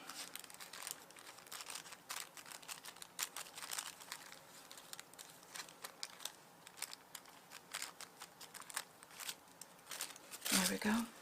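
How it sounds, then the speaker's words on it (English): Wet-scored paper is slowly pulled and torn apart by hand at an altered-art craft table, giving faint crackling, rustling tears in bursts with a sharper rip near the end. "Just helps you tear the paper a little better."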